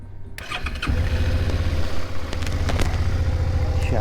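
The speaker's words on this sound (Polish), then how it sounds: "Odpalam silnik." A motorcycle engine cranks briefly and catches, then settles into a steady, close, throbbing idle with a few small revs.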